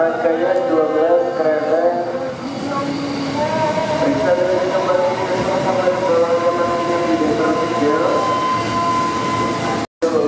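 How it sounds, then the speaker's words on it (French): Steady rumble of a Japanese train in motion, with voices and crowd noise carrying over it throughout, then a brief cut near the end. "So these trains are all Japanese trains."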